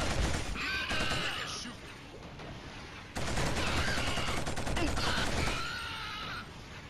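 Rapid gunfire and explosive bursts from the Killzone shooter game, two long dense stretches of loud shooting split by a brief break, with a voice speaking underneath.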